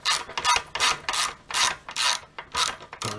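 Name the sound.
loosening Honda CBR650R exhaust silencer screw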